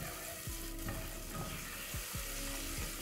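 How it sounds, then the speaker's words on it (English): Chopped onion and leek frying in a soup pot for butternut soup, a steady close sizzle with a few scraping stirs of a spoon, no voices. "Then I'm going to give my onion and leek a stir."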